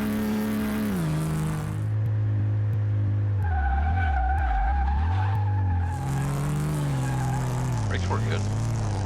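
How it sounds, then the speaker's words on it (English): A car, driven at around 60 mph in second gear, brakes hard and skids, with a loud tire squeal and engine droning under it for several seconds before it slows. "Brakes work good."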